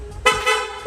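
A Honda Click scooter's horn gives short, loud, buzzy honks close by, with a brief pause between blasts.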